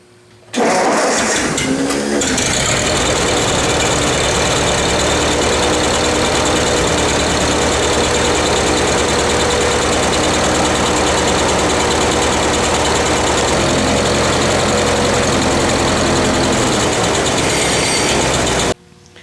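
A Ford 8N tractor engine cranks and catches with a loud roar, then settles into a steady, rumbling idle that runs on without pause.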